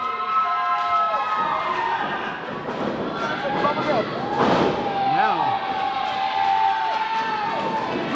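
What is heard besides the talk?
crowd cheering wildly at wrestling match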